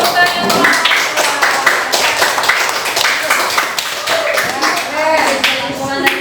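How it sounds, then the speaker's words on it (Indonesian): A classroom group clapping hands during a teaching session, a quick, uneven patter of claps close by with voices talking over it. "Iya, tepuk tangan."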